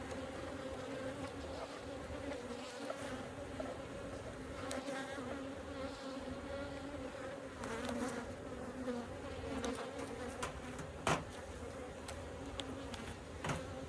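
Bees buzz steadily in a dense, continuous drone around an opened beehive, an old colony, with a few louder individual passes standing out near the microphone.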